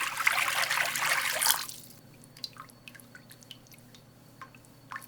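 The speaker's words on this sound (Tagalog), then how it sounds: "Magbuhos tayo ng 2 tasang tubig." Water splashes and pours into a pan of frying onions and garlic for a hotdog and vegetable dish, a brief rushing burst followed by scattered drips and soft bubbling.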